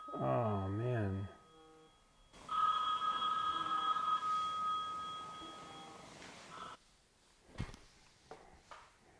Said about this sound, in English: All right, there was a phone call.